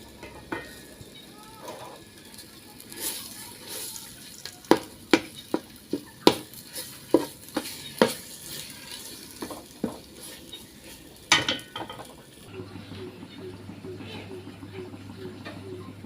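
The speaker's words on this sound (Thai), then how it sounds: "ผัดน้ำพริกให้แตกมันเลย ใช้ไฟอ่อนๆนะค" Chili paste for Thai nam ngiao is stir-fried over low heat in a pan, with a soft sizzle and a series of sharp spatula scrapes and clinks against the pan, and someone speaks over it.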